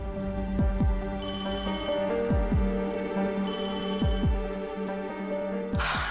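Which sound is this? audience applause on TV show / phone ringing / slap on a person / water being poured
phone ringing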